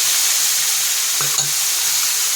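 Onion paste and chopped tomato fry in hot oil for a Bengali crab curry, giving a steady close sizzle with one brief stirring clatter partway through.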